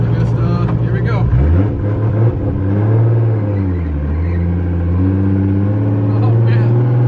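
A freshly tuned car with a new 1JZ engine pulls away on its first drive, its loud, steady engine drone rising and falling through gear changes and holding close throughout.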